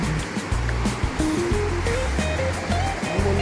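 Monsoon rainwater rushes and splashes in a strong, continuous roar near a road in the Konkan, loud and close throughout, with a few brief tonal whistles riding over the flow.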